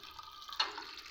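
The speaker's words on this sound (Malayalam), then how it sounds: "കുറച്ച് വെള്ളം വെച്ചിട്ട് ഒരു ഗ്ലാസ്സിന് പകുതി." Water poured into a small vessel of washed bitter gourd pieces makes a faint, steady splashing trickle that swells briefly midway, heard close with no voices.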